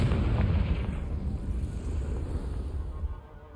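Confringo blasting spell explosion in Hogwarts Legacy: a deep, loud rumbling blast that rolls on with a heavy low-end roar, then gradually fades away.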